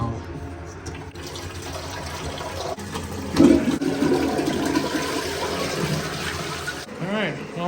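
A newly installed wall-hung toilet flushes with a loud surge of rushing water that swells midway, then settles into a steady refill hiss before tapering off near the end.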